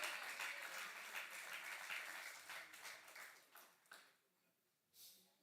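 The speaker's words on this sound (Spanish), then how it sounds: "Dale un aplauso fuerte al Señor." Church congregation applauding loudly for the Lord during a Spanish-language service, a dense burst of clapping that thins and fades over a few seconds, with a brief final flurry.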